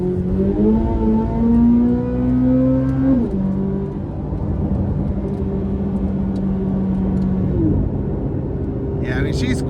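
A car engine revs and strains while driving through snow in rough terrain, its pitch climbing, dropping, then holding steady in a loud sustained drone, with brief higher clatter near the end.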